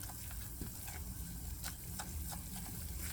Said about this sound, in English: You're gonna cook this down so that it doesn't taste like flour